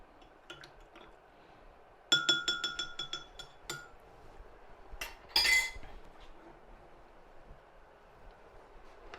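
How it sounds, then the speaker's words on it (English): A spoon stirs a stock cube into a pot of chunky ratatouille, making sparse metallic clinks with a rapid clattering burst and a second brief scrape, all quiet with no talk. "We just give that a really good stir so it all dissolves."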